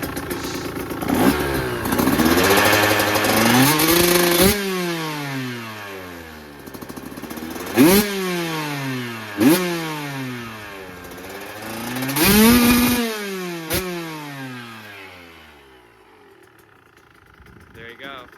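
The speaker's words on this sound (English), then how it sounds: "Definitely recommend this silencer, Shorty R-304." A 2024 KTM 125 SX two-stroke dirt bike fitted with a Pro Circuit R-304 shorty exhaust revs in several sharp, rising bursts that fall back to idle, loud and close, fading out toward the end.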